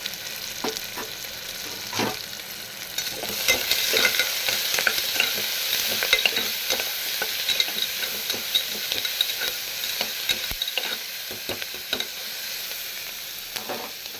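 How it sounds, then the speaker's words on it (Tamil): Onions with green chillies and curry leaves sizzle and fry steadily in a pan, with a dense hiss and scattered crackles and occasional stirring scrapes throughout. "இப்போ வெங்காயம் வதங்கிடுச்சு."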